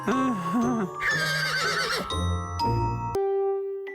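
A cartoon unicorn neighs with a playful, wavering whinny, followed by bright chiming, jingling and sparkly tones in a sustained, musical, magical-sounding sequence.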